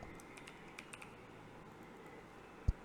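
Fingers typing a name on a computer keyboard: sparse, quiet keystroke clicks with one sharper tap near the end, no talking.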